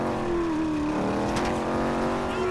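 A car engine roars steadily in the video game GTA 5, a loud, sustained drone with slight pitch wobbles as it revs and drives, alone with no talking.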